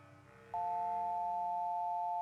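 Steady electronic busy signal from a telephone in the video game Nancy Drew: The Final Scene, a clean continuous tone starting abruptly and holding loud and alone over faint background music.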